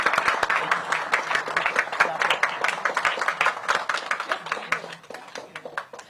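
Audience clapping at a Washington DC mayoral press event on holiday safety, a dense spatter of hand claps in steady rhythm that rises, holds, then thins out and fades toward the end, with no voices over it.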